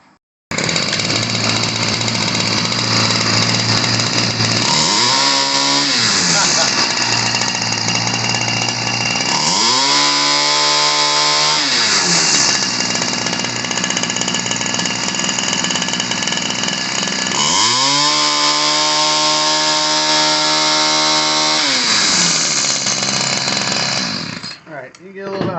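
Ryobi 725r gas string trimmer engine running during carburetor adjustment, loud and close, idling roughly and then revving up several times in rising and falling surges before dropping away at the end.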